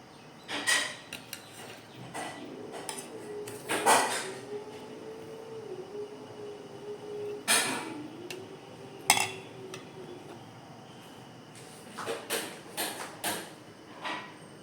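A spoon scrapes and clinks against a pan while chana dal cooks down with sugar into a thick halwa-like sweet, sparse metallic scrapes and knocks coming in irregular bursts at moderate distance, no talking.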